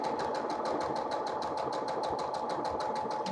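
A sewing machine stitches a quilt seam with the fabric lined up on the presser foot edge, its needle beating in a fast, steady rhythm that runs close and continuous throughout.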